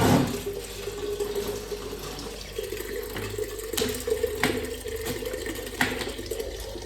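Tap water fed from an overhead tank connection pours in a steady, splashing stream into a vessel nearby, with a few sharp knocks and clatters mixed in and no voices.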